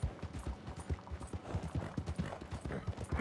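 Footsteps behind the player in the video game Red Dead Online, a steady run of heavy, evenly spaced thuds close by and fairly loud, with no talking over them.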